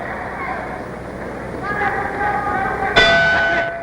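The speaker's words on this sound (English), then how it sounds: "there's the bell ending round 4" Boxing ring bell ending round four of a welterweight title bout, one sharp ringing strike with sustained overtones near the end, over crowd noise and a commentator talking.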